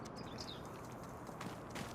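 Horses on a farm in Farming Simulator 25 make faint clip-clop hoof sounds over a soft, steady ambient bed with light bird chirps.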